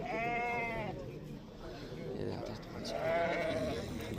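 Sheep bleat at the Kochkor-Ata livestock market in Kyrgyzstan, with two loud nearby bleats, one at the start and one near the end, over buyers and sellers talking.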